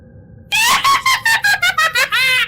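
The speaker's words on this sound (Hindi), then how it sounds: "यही तो मैं चाहती थी, डर, चीखें।" A sudden shrill scream for a Hindi horror story bursts out of silence and breaks into a run of short, loud, pulsing cries before ending on one long wail.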